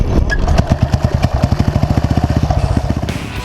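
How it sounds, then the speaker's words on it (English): A car engine idles with a steady, loud pulsing rumble close by, then the revs begin to lift slightly as the clutch comes out at a drifting session, with no voices over it. "Clutch out and just sort of let it idle and it'll just pick up."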